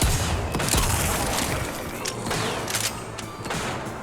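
Rapid gunfire from a first-person shooter match in TimeSplitters Rewind, loud and close with dense overlapping shots and bursts running steadily throughout.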